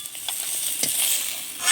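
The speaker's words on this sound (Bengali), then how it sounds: "ও পাশে কড়াইতে শুক্তো তরকারিটা হচ্ছে" Curry cooking in an Indian kadai, or wok, stirred in hot oil: close, steady sizzling and frying with soft scraping strokes of the spoon against the pan, growing louder toward the end.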